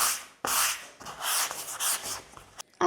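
Hand sanding a wardrobe panel with fine 400 grit sandpaper, close scratchy rubbing strokes in a quick back-and-forth rhythm, several passes with short breaks.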